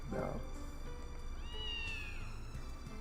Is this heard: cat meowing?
yes